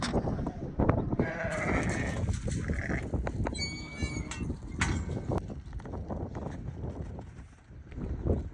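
A flock of sheep and young lambs bleats repeatedly while being worked on a farm, overlapping calls near and farther off over shuffling and rustling movement.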